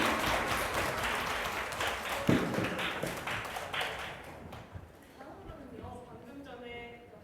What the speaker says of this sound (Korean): 우리 설현아 선생님께 여러분 큰 박수 한번 부탁드리겠습니다